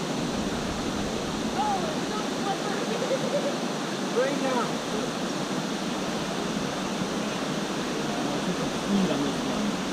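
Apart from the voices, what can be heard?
waterfall rushing in Costa Rica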